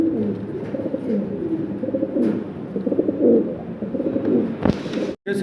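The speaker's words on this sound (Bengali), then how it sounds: "দর্শক আমরা আরও এক জোড়া জার্মান বিউটি হোমা কবুতর দেখতে পারতেছি" A pair of German Beauty Homer pigeons coo close by in soft, repeated throaty rolls that run almost without pause, ending with a short burst of rustling or wing flutter.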